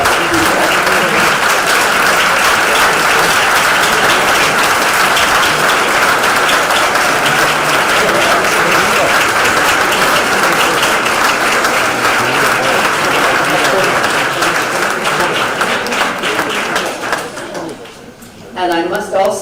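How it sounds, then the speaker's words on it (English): A crowd at a Peace Corps swearing-in ceremony applauds a standing group of trainees, loud continuous clapping that runs for most of the stretch before thinning and fading near the end. "I'm going to ask now that you please stand up and allow us to give you a round of applause."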